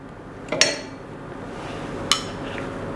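A spoon clinks twice against a small glass while cooked berries are spooned into the bottom for a mixed berry dessert, each a bright, close, isolated ring with quiet pauses between.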